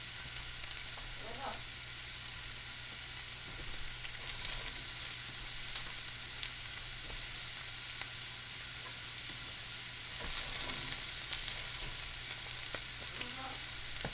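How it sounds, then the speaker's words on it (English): Carrots sizzle in hot oil in a pan, a steady bright crackle running throughout with a few faint scrapes and stirs, no talking. "You can hear that sizzle."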